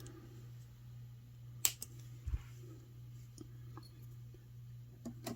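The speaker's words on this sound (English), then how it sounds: "Take my cutters. Cut off my extra wire." Wire cutters snip off the extra jewelry wire with a few small, close, crisp clicks and snaps, faint over a steady low electrical hum in a quiet room.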